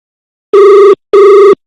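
A telephone rings twice, loud and close, as a call is placed during a studio show. The two bursts are evenly spaced with a short gap between them and no talk over them.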